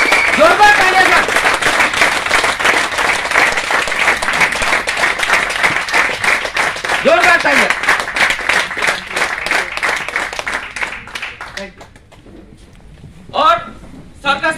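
Loud sustained audience applause at a launch programme in Amravati, dense clapping for about ten seconds under an announcer's voice, then fading to quieter scattered claps and a brief final burst.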